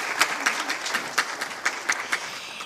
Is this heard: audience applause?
yes